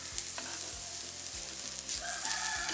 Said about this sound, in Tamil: நெருப்பை நல்லா குழச்சி போட்டு வதக்குங்க.